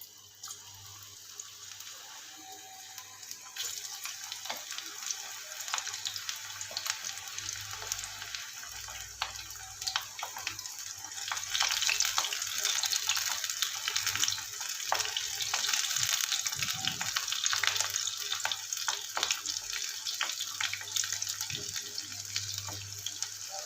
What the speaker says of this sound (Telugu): ఆయిల్ వేడైంది, డీప్ ఫ్రై చేసుకుందాం